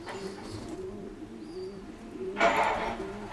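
Racing pigeons of the Stichelbaut line coo inside a loft, soft repeated rolling calls up close, with a brief burst of rustling or flapping partway through.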